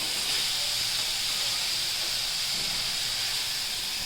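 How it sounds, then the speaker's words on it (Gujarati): Carrots, peas and onions cook in a pan, giving a steady, loud, broad steamy hiss that holds unchanged throughout with no voices. "આપણા ગાજર વટાણા અને કાંદા બધી વસ્તુ આપણે એમાં નાખી દઈશું બધી વસ્તુને આપણે થોડીક વાર ચડવા દઈશું"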